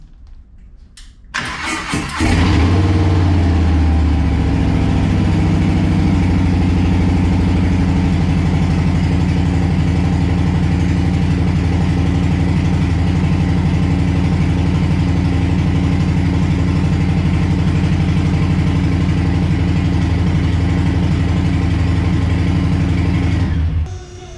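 A Harley-Davidson Street Bob motorcycle engine cranks and fires up, then settles into a loud, steady, throbbing idle that runs close by for about twenty seconds before cutting off.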